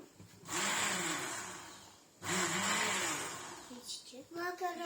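A kitchen blender whirs loudly while mixing a strawberry smoothie in two bursts separated by a short pause, followed by people talking.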